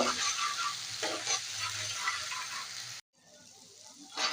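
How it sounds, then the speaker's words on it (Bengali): A spice mix of salt, turmeric, sugar and Kashmiri chili powder frying in a pan while being stirred, a close continuous sizzle with scraping strokes, briefly dropping out near the end before resuming. "মশলাটা কষিয়ে নেব।"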